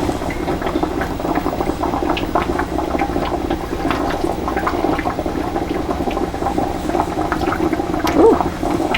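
Broth pours into canning jars in a continuous, close liquid gurgle and splash that runs steadily throughout, fairly loud and with no talking over it.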